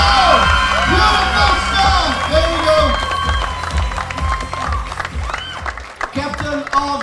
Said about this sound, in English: Ladies and gents, start the clapping.